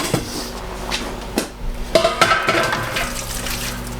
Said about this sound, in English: So we need to deglaze this pan, so I'm gonna add all of this to a large stock pot.